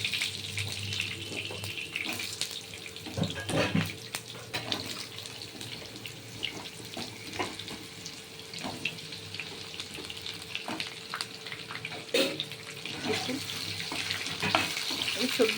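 Vegetables go one by one into hot oil in a pan while cooking a vegetarian pumpkin-vine curry with fritters, producing a steady sizzle and frying hiss with scattered clinks and crackles, fairly quiet throughout.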